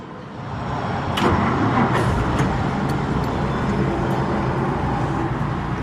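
A 1949 Dodge Coronet with a Gyro-Matic transmission runs quietly, giving a steady, smooth low engine hum and broad road-like rumble that holds even throughout, with no voices.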